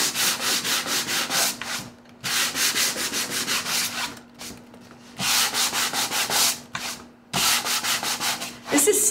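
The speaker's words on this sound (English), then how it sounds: "I will push and twist my sanding block so it's just a little bit that way" Hand sanding with a block: rapid rhythmic back-and-forth rasping strokes in several bursts, separated by short pauses, close and loud.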